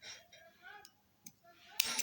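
A few light metallic clicks and a sharp snip near the end, close and quiet, as small scissors cut crochet yarn.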